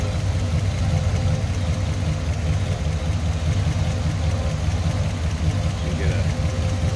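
A 1941 Chevrolet AK pickup with a small block V8, Edelbrock intake and HEI ignition, idling steadily close by with a constant low rumble and no change in pace.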